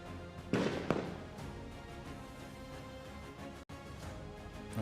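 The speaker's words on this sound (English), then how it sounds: "There goes the first shot from one of the Brazilian snipers." A Brazilian sniper fires a rifle at a SWAT challenge in the UAE: a few sharp distant cracks, the first two close together, over a steady outdoor rumble.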